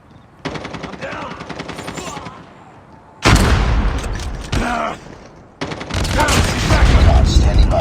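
Rapid automatic gunfire in a first-person shooter game, with sustained bursts and fusillades that start and stop over several seconds, loud and close, mixed with game effects.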